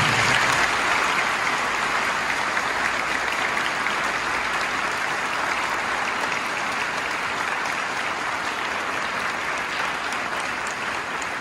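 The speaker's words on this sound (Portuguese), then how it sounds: "Então, a salva de palmas para todos eles." A church congregation at a 2022 confirmation Mass gives a long, sustained round of applause for the catechists. The clapping is dense and even, and it stays loud and continuous throughout.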